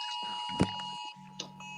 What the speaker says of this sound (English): There's an Amber Alert. Beep, beep.